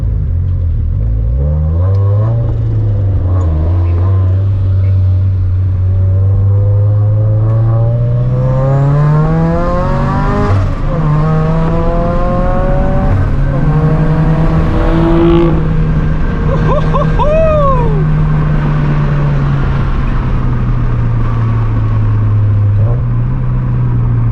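A 600 hp twin-turbo Nissan 370Z Nismo engine roars steadily as it accelerates on a street, with a high turbo spooling whistle rising and falling over the rumble near the end.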